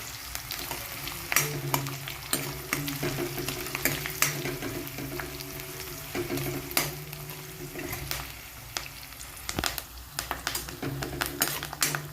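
Chopped onion and curry leaves sizzle hard in hot tempering oil, a steady close frying hiss broken by scraping stirs in the pan, with no talking.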